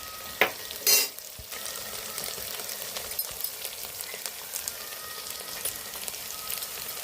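A paste of ground coconut, ginger and garlic masala fries in a pan with a continuous close sizzle, a couple of stirring knocks early on, then even crackling throughout without talk.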